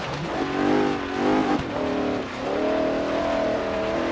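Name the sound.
1972 Mercedes-Benz 300 SEL engine revving in video game Forza Horizon 3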